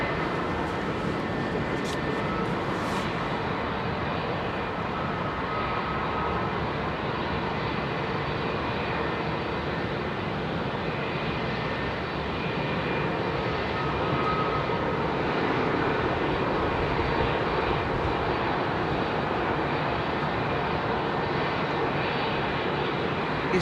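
Jet airliners departing runway 27R at London Heathrow, a loud, close, continuous engine roar that holds steady and swells slightly as an aircraft climbs away, with no voices.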